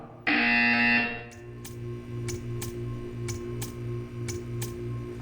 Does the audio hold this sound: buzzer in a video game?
yes